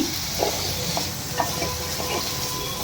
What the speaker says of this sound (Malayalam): ഇനി നമ്മൾ ഈ ചട്ടിയിലേക്ക് തന്നെ നമ്മുടെ വെണ്ടക്കായ അരിഞ്ഞിട്ട് ഇട്ട് കൊടുക്കുക നല്ലപോലെ ഇളക്കി